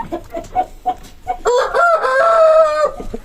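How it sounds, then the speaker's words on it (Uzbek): A heavy rooster of about five kilos, a fighting breed, clucks in short bursts and then lets out one loud, close crow lasting over a second, followed by more clucking. "Mana xo'roz."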